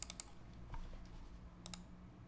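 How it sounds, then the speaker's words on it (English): A few sharp computer mouse clicks recorded at keyboard level, faint and sparse, with a couple in a quick group at the start and another pair near the end over a quiet room hum. "This is how loud the mouse clicks are at keyboard level."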